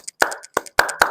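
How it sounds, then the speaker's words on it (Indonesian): Claps from a class doing a rhythmic Indonesian 'tepuk mantap' cheer, four sharp, close hand claps in an uneven pattern with short gaps, loud and with no talking over them. "Bapak akan ada tepuk mantap seperti ini"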